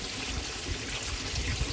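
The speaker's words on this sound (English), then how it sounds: "the clean water drops through the sieve" Clean water drops through a homemade DIY sieve filter in the first chamber of a pond filter, a steady close splashing trickle and rush with no talk.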